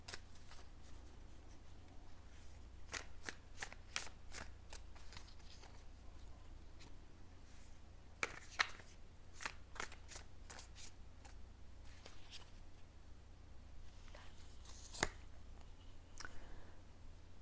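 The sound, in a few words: shuffling playing cards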